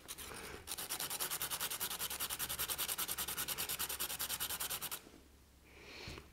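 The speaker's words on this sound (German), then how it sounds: "Du kannst natürlich auch dieses Schleifblättchen nehmen." A pencil lead is rubbed back and forth on a small sheet of sandpaper to shorten and sharpen it, giving a fast, steady rasping stroke rhythm for about four seconds, close and clear, before stopping.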